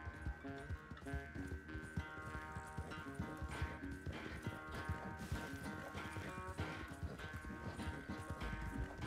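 Rhythmic hoofbeats of a galloping horse in the video game Red Dead Redemption 2 over a steady, looping game soundtrack, fast and continuous, moderately loud and close.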